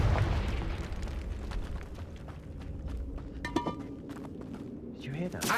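Blasting explosions of a Confringo spell in a video game burst out amid rumbling game ambience, with a voice talking over the noise.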